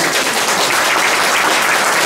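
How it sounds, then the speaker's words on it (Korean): Seated attendees at a lecture on the international order and the Korean Peninsula's unification economy give a speaker a warm welcome. Loud, continuous applause fills the room without a break. "박수로 맞아주시죠."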